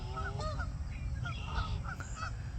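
Geese honk noisily and repeatedly at a distance by a pond at an RV park near Lafayette, Louisiana, harsh overlapping calls rising over a steady low outdoor rumble.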